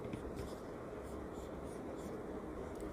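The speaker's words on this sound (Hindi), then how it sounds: "यहाँ लिखती हूँ मैं" A pen scratches across paper while a chemistry teacher writes out a reaction product, faint irregular strokes under a low room hiss.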